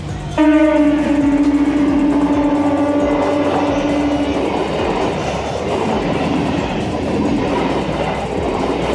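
A train rumbles through a railway level crossing at Nabadwip, loud and close, with a strong horn-like tone at the start and then steady clattering wheels and wagons rolling past.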